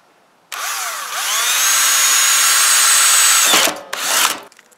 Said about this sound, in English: so I'm going to really take my time when I drill this